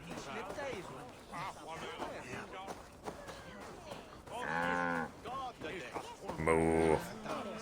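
A cow in the video game Assassin's Creed Valhalla lets out two drawn-out moos over busy in-game ambience, the second louder and closer.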